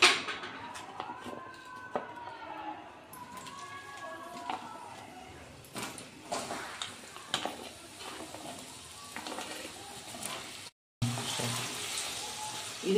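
Whole spices, including mace and bay leaf, crackle and sizzle softly in two to three spoons of oil in a kadai, a faint frying hiss while a voice talks at first.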